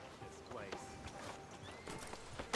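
Horses in the Red Dead Redemption 2 game clip-clop and whinny at low volume amid busy ambient town noise, with hoofbeats scattered through the scene and a sharp sound near the end.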